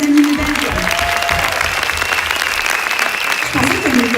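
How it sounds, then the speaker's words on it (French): An audience at a corporate presentation applauds the Belgian team, sustained dense clapping that carries on loudly throughout, with a speaker's voice heard over it at the start and end. "Vous pouvez les applaudir, nos amis belges."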